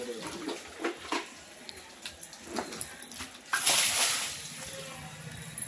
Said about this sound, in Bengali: এখন পানি ছিটাবে আমার সার্বিক সহকারী ছোট ভাই।